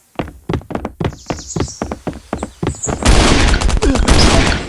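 Shotgun fire in the survival video game Last Island of Survival cracks out in a rapid run of a dozen or so loud, close blasts, followed by a dense burst of louder noisy gunfire.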